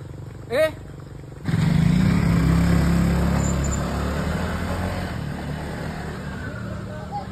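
A motorcycle engine starts and keeps running nearby with a loud, steady rumble that eases slightly over time, while a voice talks over it.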